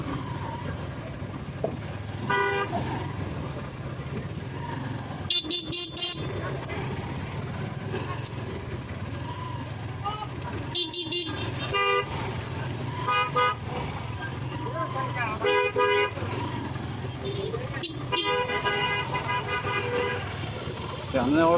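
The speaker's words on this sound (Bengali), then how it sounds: "আমি হরান দিতেছি কেন" Several loud vehicle horn blasts, some repeated in quick bursts, sound over steady road traffic on the damaged Baburhat–Daudkandi road at Kalairkandi bazar, with an auto-rickshaw stopped ahead; someone talks throughout.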